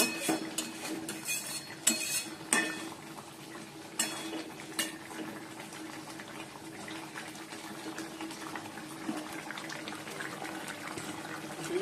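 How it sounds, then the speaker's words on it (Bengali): Dishes and a kadai being scrubbed under water in a home kitchen, with steady running and splashing water and scattered clinks and clatters of metal pots and utensils, close and fairly loud throughout. "বাসনগুলো মাজলাম কতগুলো বাসন হলো ওই কড়াইটা মাজবো"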